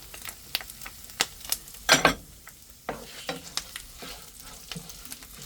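Onions frying in a pan while a utensil stirs them, with sharp clinks and scrapes scattered over a quiet sizzle, loudest in a cluster of knocks near the middle.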